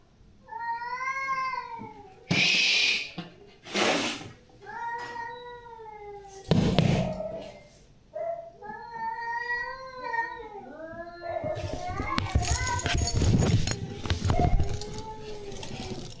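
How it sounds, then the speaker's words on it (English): Several cats meow and caterwaul in drawn-out, wavering yowls, loud and close, trading long cries with brief gaps before the sounds grow denser and harsher near the end. "bloody cats"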